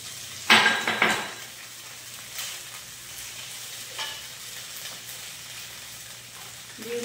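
Crushed ginger drops into a pan of fried potatoes and eggplant with a sharp burst of sizzling and a few scraping stirs, then settles into a faint steady frying hiss with occasional utensil clinks.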